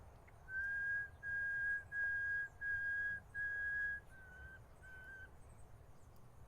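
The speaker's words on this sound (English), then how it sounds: "And I hope you could hear, and you can also see that the nightingale responded" A clear steady human-whistled tone repeated five times in even bursts, followed by two shorter, slightly lower notes from a responding nightingale, over quiet background hiss.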